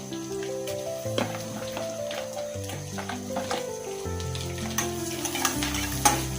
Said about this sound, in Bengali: এখন আমি কিছুটা কাঁচা পেঁয়াজ দিয়ে দিই।